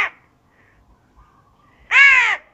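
A trained crow perched outdoors gives one loud, harsh caw close by near the end, after a faint rough call at the start and near silence between.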